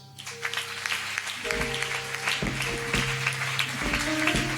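A church congregation claps together in a dense, steady round of applause for Jesus, with sustained keyboard or organ notes ringing underneath.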